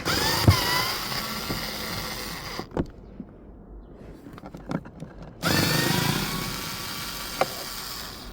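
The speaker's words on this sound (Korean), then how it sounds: "요 중지 손가락으로 요 피스 있는 위치를 찾아서 정확하게 비트를 탁 꼽아 넣으면은 이렇게 탈거를 할 수 있어요" A power screwdriver bit backs a hidden screw out of a Santa Fe's air conditioner housing, close whirring bursts, then a short quiet pause before the motor buzzes again.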